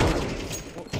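Gunfire in Counter-Strike 2 during a competitive match, a few sharp shots with thuds over a busy game backdrop, fairly close.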